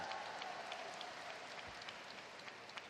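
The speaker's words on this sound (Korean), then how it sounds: "큰 박수 부탁드리겠습니다" Audience applause at a combat sports event, a heavyweight tag match card, heard as a steady, dense wash of clapping across the whole stretch with no clear voices on top.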